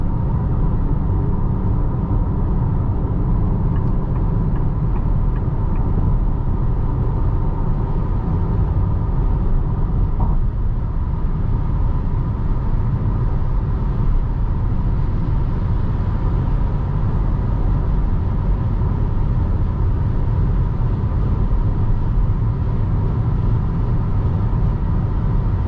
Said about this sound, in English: I do hear a lot of tire noise, so it might be the tire